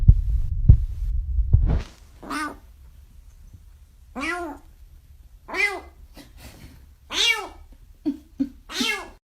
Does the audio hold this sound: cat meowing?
yes